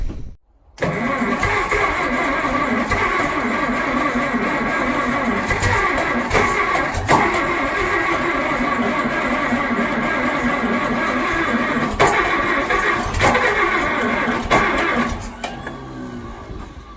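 A Farmall M diesel tractor set to run on gasoline is cranked after two to three years unused, its engine catching and then running loud and steady up close, with small uneven bumps and a drop near the end.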